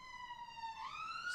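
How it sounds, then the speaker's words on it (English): A wailing emergency siren sounds steadily at moderate distance, its tone sliding upward near the end. "These sirens."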